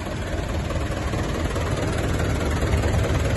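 A Ford tractor engine idles with a steady low rumble, even and fairly close, with a dense throbbing low end and no voices.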